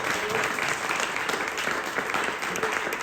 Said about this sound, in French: j'aimerais ça qu'on lui donne une bonne main d'applaudissement